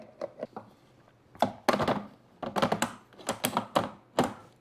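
Plastic clunks and clicks as a lid goes onto a Ninja CREAMi ice cream container and the container is twisted and locked onto the machine, a close run of sharp knocks and rattles.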